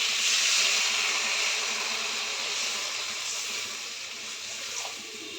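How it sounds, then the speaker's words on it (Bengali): Milk is poured into masala frying in oil for a prawn malai curry, giving a steady, close sizzling hiss that fades slightly over a few seconds. "দুধটা আমি ঢেলে দিচ্ছি।"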